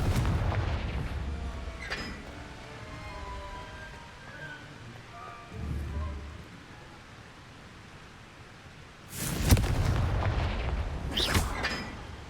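Spell explosions from a Hogwarts video game: a Confringo blast erupts as a loud, broad boom, and a second burst follows shortly after, set against a quieter rumbling game background.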